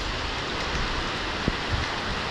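Light rain falls steadily on a rainy day, a soft even hiss filling the background with no voices and only a couple of faint taps or drips standing out.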